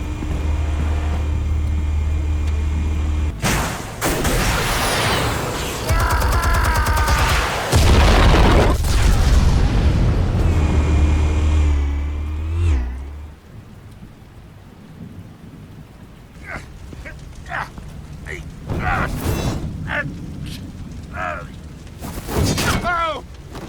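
Explosions in Batman: The Telltale Series on PC roll out as heavy, deep rumbling booms for about twelve seconds, then give way to quieter scattered crackles and thuds.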